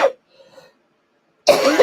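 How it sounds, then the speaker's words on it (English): A single close, sharp cough, followed by a short pause and then a second burst of coughing or throat clearing. "Relate my cough to anxiety."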